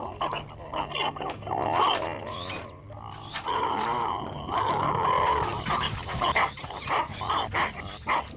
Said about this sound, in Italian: Le piace il mio cane?